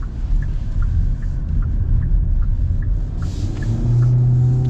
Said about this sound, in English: I guess we'll get another little acceleration here